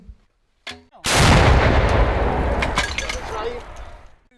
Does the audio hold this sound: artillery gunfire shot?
yes